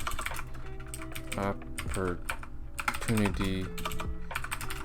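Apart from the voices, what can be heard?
typing on a computer keyboard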